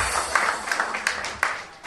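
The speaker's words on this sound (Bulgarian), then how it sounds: "аплодисменти за него" Wedding guests applaud at a celebration, a short burst of scattered clapping with a few sharper individual claps standing out, fairly close and steady.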